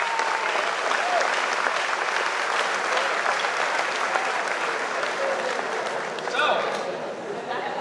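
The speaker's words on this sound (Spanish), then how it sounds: "Dense un fuerte aplauso," A conference audience gives a loud, sustained round of applause, dense clapping that keeps going for about eight seconds.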